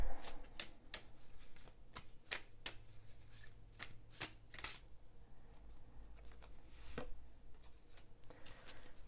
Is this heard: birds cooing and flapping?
no